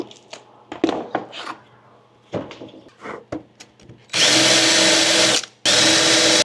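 Power drill countersinking and driving screws into deck boards for a camper van floor, two loud sustained whirring runs near the end after scattered knocks and handling noises, recorded up close.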